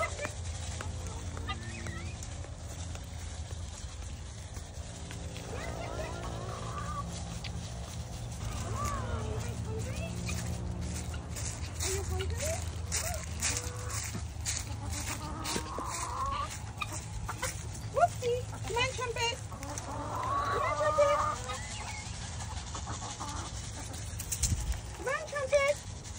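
Backyard free-range chickens clucking and murmuring around a coop on a hobby farm, with scattered close clucks over a steady low background hum and a person talking and calling to the birds throughout.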